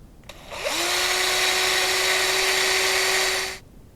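A power drill drives a screw into wood while a wooden rack is assembled, a single steady whir lasting about three seconds before stopping.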